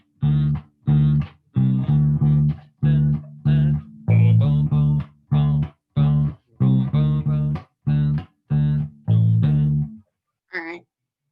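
A bass guitar alternates between two notes in a repeated plucked rhythm. There are about a dozen short, even notes with brief gaps between them, and a faint squeak of a string at the end.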